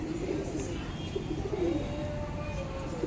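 Pigeons for sale coo softly in a loft, low repeated throaty coos over a steady background hum, close but fairly quiet.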